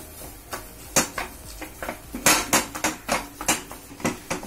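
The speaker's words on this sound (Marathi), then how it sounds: "आता आपण खवा परतून घेऊया।" A metal spoon scrapes and taps against a pan while khoa (milk solids) is sautéed, giving a sequence of sharp, irregular clinks that speed up and turn rhythmic in the second half.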